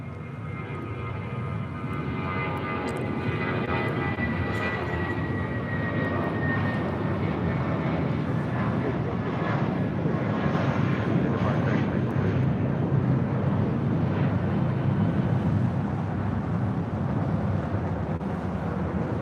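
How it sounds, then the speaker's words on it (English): A Spirit Airlines Airbus A320 takes off at LAX, its jet engines making a loud, steady roar that builds and then holds for the whole stretch, heard from a distance outdoors. "This is Spirit 816 taking off to Kansas City on an A320."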